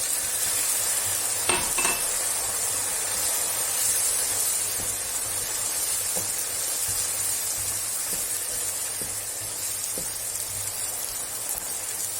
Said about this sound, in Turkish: Üzerine bir su bardağı sıcak su ekliyorum.